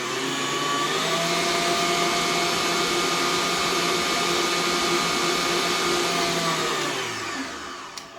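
An electric hand mixer whirs steadily and loudly as it beats egg and milk into cake batter for a German fruit platz, a constant motor drone that winds down at the end.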